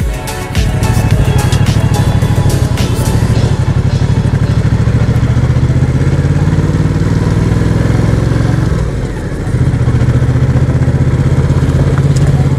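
A loud adventure tourer motorcycle engine runs steadily for the whole stretch, with a brief dip in load near the end before the throb picks up again. No one speaks.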